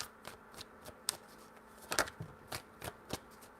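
Tarot cards shuffled by hand, a close series of crisp flicks and riffles in an uneven rhythm, with a couple of brighter snaps in the middle, no voices.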